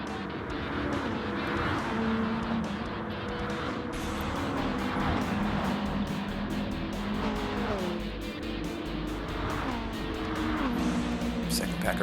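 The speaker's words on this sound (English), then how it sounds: "Second pack of racers here coming down the backs" Race cars, among them a Toyota Supra and a Nissan 180, drive down the back section of a track in a club race, engines roaring and tires squealing as a pack passes, under constant commentary.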